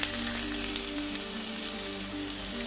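Chopped ginger and garlic sizzle in hot oil for restaurant-style chilli chicken, producing a steady, dense, close hiss that holds evenly throughout.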